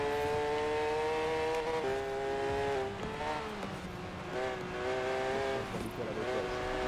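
Racing car engine in Forza Horizon 4 from a cockpit view, holding sustained tonal whine with gear-shift pitch drops and revving up and down continuously, loud and unbroken.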